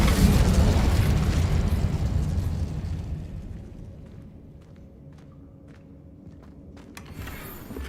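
A fire spell cast in the Hogwarts Legacy video game bursts out loud at once, with a heavy rumbling blast that slowly fades over several seconds. Faint clicks and small pops follow near the end.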